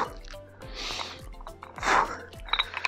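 A quick sharp breath drawn in through the nose during an Arnold press with dumbbells, close and breathy, with a few faint knocks and shuffles around it.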